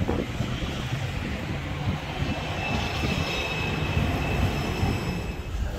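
Tram on line 18 in Arad pulling away and rolling through the city, a steady broadband rumble of wheels and motor with a faint high whine, continuous and fairly close, no talk.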